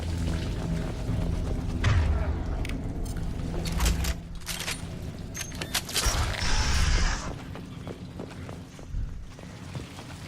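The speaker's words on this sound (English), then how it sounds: "And the door is open." A door creaks open in Mass Effect 2, a drawn-out mechanical creak and whir rising over layered game ambience, with a few clanks and a brief hiss near the end.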